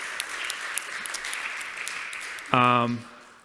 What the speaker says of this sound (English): So a round of applause to 512 startups.